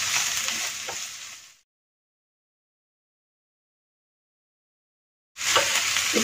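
Two medium onions, finely chopped, sauté in a pan with a close crackling sizzle and stirring scrapes. The sound cuts to silence for several seconds, then the sizzle resumes, with no talk.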